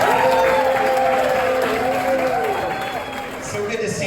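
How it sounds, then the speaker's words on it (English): A comedy special audience claps and cheers as a comedian is brought on stage, with dense, sustained applause under a host's voice and the crowd noise easing slightly toward the end. "Please start clapping now for Scott Vinci."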